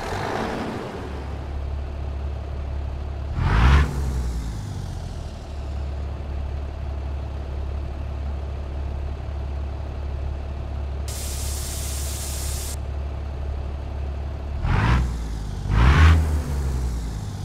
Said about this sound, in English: Today we're using Slob Jerry's Cummins ISX EGR motor